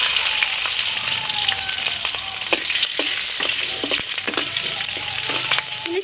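Slit green chillies and black cumin seeds frying in hot oil for a hilsa fish head and taro leaf curry, giving a steady, loud, close sizzle with crackles and the occasional scrape of stirring.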